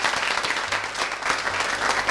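A studio audience at a television show claps in a dense, sustained round of applause, loud and close, with no talk over it.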